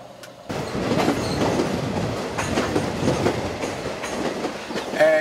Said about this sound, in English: we're at Kliptown train station